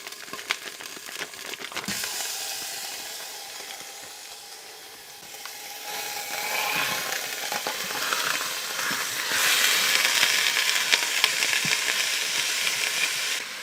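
Ground beef fries in olive oil inside an Instant Pot, giving a steady sizzle and hiss that swells louder partway through, with occasional stirring scrapes and no talking.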